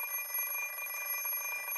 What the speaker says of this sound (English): I glare up the alarm clock for several seconds. I shut off the alarm